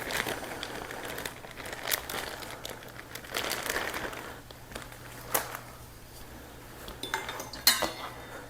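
A knife cuts through a half package of bacon with scattered taps and clicks against the board and occasional crinkling, fairly quiet and close, with no talking.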